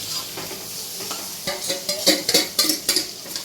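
Pre-fried vegetables go into a sizzling pan of cashews and raisins frying in a little white oil, with a continuous sizzle broken by a quickening series of scraping, stirring bursts toward the end.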